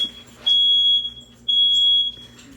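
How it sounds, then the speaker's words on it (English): A smoke alarm goes off while grilled cheese and tomato soup are cooked in a home kitchen, giving two long, loud, steady high-pitched beeps separated by a short pause. "does a fire alarm have something against you?"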